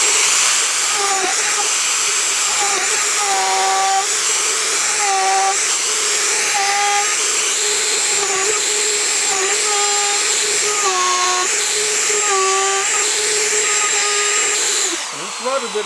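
A router bit plunges into black walnut table legs to cut mortises about 1 9/16 inches deep, giving a steady high whine that holds for the whole stretch, with shifting tones as it moves through the wood.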